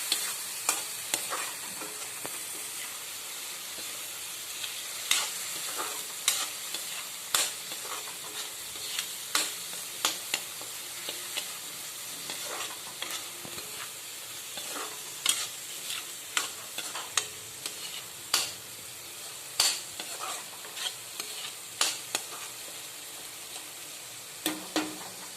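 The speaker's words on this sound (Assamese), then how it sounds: "মিডিয়াম ফ্লেয়াৰ লৈ পেলাই অলপ লৰাই থাকিব যাতে কেৰাহীখনত লাগি নধৰে।" Egg curry masala paste fries in a kadai over medium flame, a steady sizzle punctuated by regular sharp scrapes and taps of a spoon stirring against the pan, no voices.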